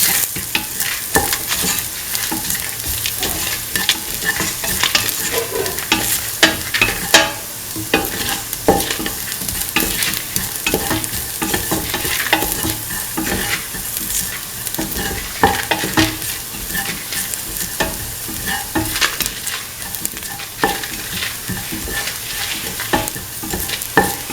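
A spoon stirs a split chickpea semolina mixture in a hot pan, a continuous close scraping and gentle sizzle with repeated rhythmic strokes throughout.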